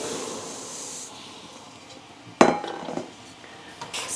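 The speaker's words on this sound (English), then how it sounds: "So now we are going to add the sugar all at once." Sugar, five cups at once, poured into a pot of boiling berry juice: a sudden loud gritty rush and hiss after a quiet simmering stretch, tapering off, then more rattly clatter near the end.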